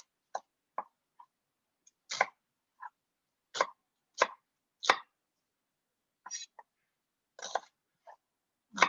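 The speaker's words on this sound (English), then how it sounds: "And now I'm going to chop my onion into large cubes" A red onion being chopped into large cubes on a cutting board, knife strikes landing in separate clusters of sharp, close thuds with pauses between them, no talking.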